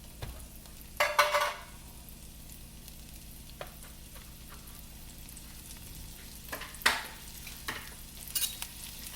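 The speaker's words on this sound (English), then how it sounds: "I will turn you down so you can see the food as I throw it into the skillet." Food sizzles faintly in an oiled skillet under a low background hum. A few louder scrapes and clatters come now and then as it is stirred.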